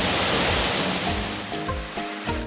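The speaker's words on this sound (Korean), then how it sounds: "여기는 용추 폭포입니다." Yongchu waterfall in Mureung Valley, Donghae, pours as a dense, constant rushing roar, close and loud, with a few brief clatters in the last second.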